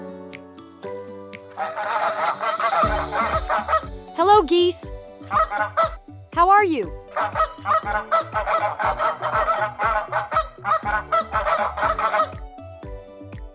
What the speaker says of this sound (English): Hello, geese.